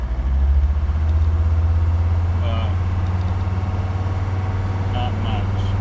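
A Mercedes 300D diesel engine idles while warming up, a steady low rumble with a rhythmic diesel clatter running throughout, close and fairly loud, with a few faint higher tones briefly over it.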